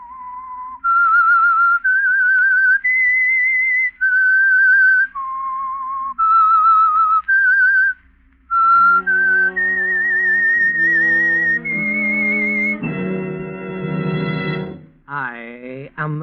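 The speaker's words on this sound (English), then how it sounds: "That whistle is your signal for the Signal Oil Program" Whistled signal tune of The Whistler radio mystery program, a clear solo melody of sustained, echoing notes that swells into a fuller orchestral chord near the end, with no talk over it.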